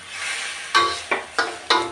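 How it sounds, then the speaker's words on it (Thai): Stir-frying catfish in a hot wok: a steady sizzle, then four sharp scraping clatters of a spatula at irregular intervals, close and fairly loud. "เดี๋ยวเราจะคั่ว ปลาสุกนะคะเพื่อนค่ะ"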